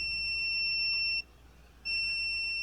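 An Epson L3210 printer sounds a shrill electronic beep in two long, steady tones separated by a short pause, loud and close.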